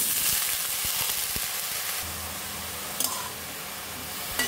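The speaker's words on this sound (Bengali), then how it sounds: "আমাদের পেঁয়াজ কুচিগুলো ভাজা ভাজা হয়ে গিয়েছে। এখন আমরা বেগুনগুলো দিয়ে দিব।" Cut eggplant goes into a pan of frying chopped onions, giving a continuous close sizzle with a few clatters and stirring knocks, and a noticeable change in the frying sound partway through; no talk.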